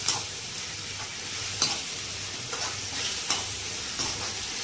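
Oil sizzling steadily in a pan while an egg, garlic and chili dish fries, punctuated by several distinct scraping stirs of a utensil, close and moderately loud with no talking.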